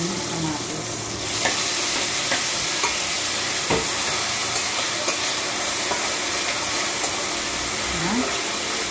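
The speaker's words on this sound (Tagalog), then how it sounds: "Haluin lang natin hanggang sa maluto yung ating kamatis, hanggang sa maduro." Tomatoes sautéing in a pan with garlic and onion, a steady close sizzle and frying hiss throughout, with occasional scrapes and clinks of a utensil stirring the mixture.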